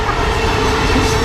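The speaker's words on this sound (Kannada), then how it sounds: "ಟ್ರೈನ್ ಹೋಗ್ತಾರೆ, ಇಲ್ಲೇ ನೋಡಿ ಕ್ರಾಸ್ ಮಾಡಿದ್ದು" A train roars past close by a railway crossing on a hill trek, a loud steady rumble filling the whole moment with no voices.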